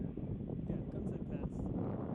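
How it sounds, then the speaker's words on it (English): Strong wind at Gunsight Pass on Kings Peak buffets the microphone with a low, steady, rumbling roar that fills the whole moment. "Super windy."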